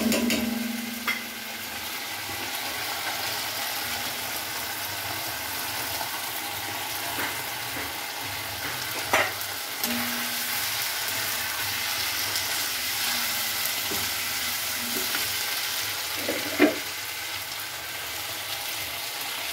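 Spices being stirred and sautéed in a pan for a hilsa fish curry with taro stolons, a steady low sizzle under occasional scraping knocks, fairly faint and with no talk.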